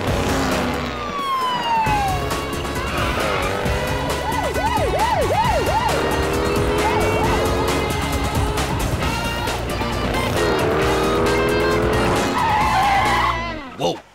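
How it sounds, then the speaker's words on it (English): Cartoon cars in a drag race: engines rev and roar with screeching tire skids, sweeping pitch glides and siren-like wails, all loud and busy before cutting off abruptly at the end. "We got ourselves a drag race."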